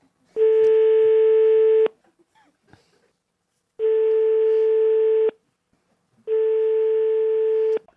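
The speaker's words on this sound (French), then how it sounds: "Faites le numéro de Jean-Philippe Janssen, là-haut en régie" A telephone rings out three times in long, even tones separated by silent gaps. The ringing is clear and fairly loud, as a call goes through to a studio control room.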